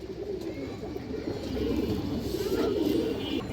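Old-breed pigeons, among them a hen shown for sale, coo steadily in a low, overlapping drone close by, with no talk over the birds.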